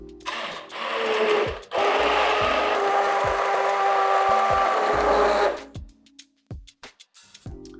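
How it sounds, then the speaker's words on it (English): Stick blender whirring through hot mulligatawny vegetable soup, a loud continuous motor drone with a short break near the start, then it stops and light clinks of handling follow. "Now I'm going to use a stick blender while this is still hot."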